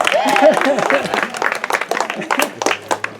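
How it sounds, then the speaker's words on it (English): Clapping and cheering break out among an outdoor crowd at a Pomo cultural and spiritual gathering for a logging moratorium, scattered claps mixed with loud voices and shouts for a few seconds. "Round of applause, yeah!"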